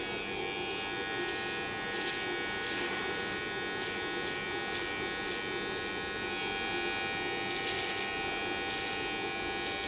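Electric hair clippers trim a beard, giving a faint, steady buzzing hum close by for the full stretch with no pauses.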